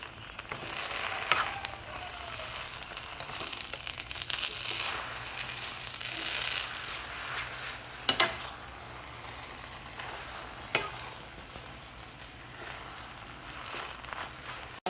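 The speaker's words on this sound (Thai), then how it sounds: "พอเส้นสุกแห้งดีแล้วเราก็จะใส่ไข่ลงไปเลย แล้วเราคลุกๆกันเลย" Rice noodles being stir-fried with egg in a pan over a gas flame give a steady, soft sizzle and crackle, broken by a few sharper scraping knocks of the utensil, close and moderate in level with no talk.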